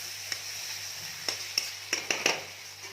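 Fish masala curry with red chili gets stirred in a pan: a handful of spaced spoon taps and scrapes sound close over a faint, steady sizzle, without speech.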